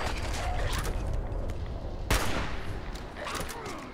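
Gunfire in the Fallout 4 video game: one sharp, cracking shot stands out partway through, set against a fairly quiet, noisy bed of rumbling game sound.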